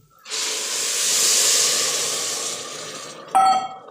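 Hot water tipped into a hot pan of rice with coriander and salt, a strong steady hiss and sizzle rising sharply, lasting a few seconds and then fading, followed by a brief clink of glass or metal; close and loud, no talking.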